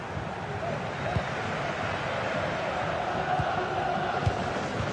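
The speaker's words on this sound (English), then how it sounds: "Well, just listen to this crowd. They want a bit more." Steady roar of a large stadium crowd in a football video game, a dense continuous murmur with faint swells and a few dull thuds, no voices standing out.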